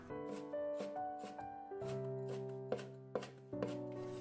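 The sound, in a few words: chopping spring onions with a knife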